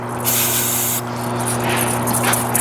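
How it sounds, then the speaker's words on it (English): Brake cleaner sprays from an aerosol can onto a trailer axle part, a loud close continuous hiss that cuts off briefly and resumes, with steady shop hum beneath. "Use brake clean because it evaporates."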